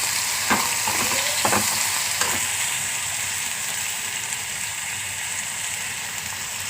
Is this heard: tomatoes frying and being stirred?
yes